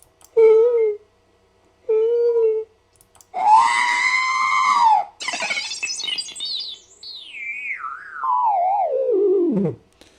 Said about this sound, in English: Number 4 are sad sounds.